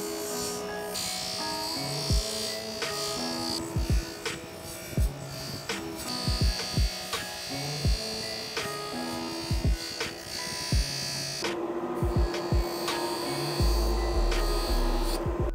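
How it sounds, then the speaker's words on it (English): Motorcycle engine parts from an RM250 rebuild being buffed in a grinding room: a steady electric motor drone with a whirring tone, broken by repeated sharp knocks and clatters as parts are handled, and a shift in pitch near the end. "I spend a lot of time in that grinding room buffing them out"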